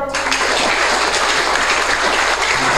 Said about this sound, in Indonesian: Mari berikan tepuk tangan kepada Bapak.